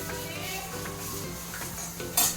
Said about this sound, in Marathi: ते मऊ होईपर्यंत आपण त्याला परतून घेऊया